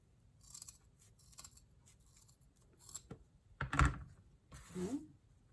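Scissors snip through craft material for a DIY beehive in a quiet room, several light short cuts followed by two louder, longer close-up cuts near the end.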